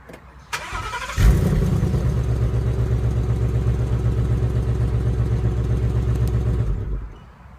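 A 2016 Ford Mustang GT V8 with automatic transmission cranks and catches, then idles through dual exhaust with a deep, throaty rumble for several seconds before shutting off.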